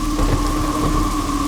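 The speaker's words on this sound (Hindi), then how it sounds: "अरे रे, इतनी बारिश क्यों हो रही है?" Heavy rain pours down steadily in a thunderstorm, a loud dense hiss with a low rumble of thunder beneath it, continuous and without talking, in a horror film scene.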